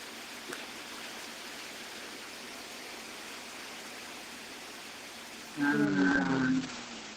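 Heavy rain falls loudly as a steady, dense hiss through most of the stretch, with a brief burst of voices near the end.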